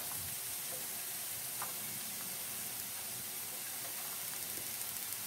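Grated carrot and cabbage frying in a pan, a faint, steady hiss and crackle at low level throughout, with no voices.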